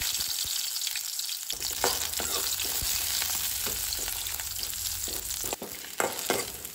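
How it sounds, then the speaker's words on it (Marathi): Roughly chopped onion sizzles in hot oil in a pan while making Goan-style chole, a dense continuous frying hiss close by with occasional scraping stir sounds and no talking. "तेल तापले उपरांत हांव हितून घालून घेता कांदो."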